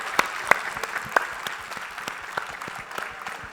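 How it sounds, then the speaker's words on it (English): An audience at the Jaipur Literature Festival claps in a scattered, moderate round of applause, with individual sharp claps standing out. It sounds close and fairly light. "Round of applause for Mrs. Wahida Rahman, please."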